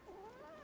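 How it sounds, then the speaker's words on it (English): A cat hidden in the bushes in Wuthering Waves gives a single drawn-out, wavering meow, close and fairly soft, alone without talk. "It's a cat."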